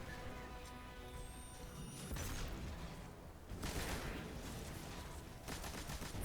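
Rapid gunfire from a machine gun in the Destiny 2 Lightfall First Contact mission, with dense bursts of loud shots around two seconds and again near four and five and a half seconds over a constant game background.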